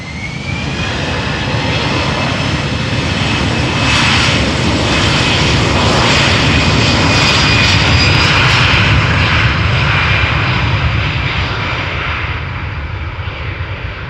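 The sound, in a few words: Aer Lingus Airbus A320 jet taking off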